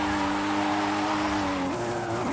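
Car drifting on a circuit in the racing game Forza Horizon 5, a steady engine drone with sustained tire squeal that shifts pitch near the end, loud and continuous with no talk.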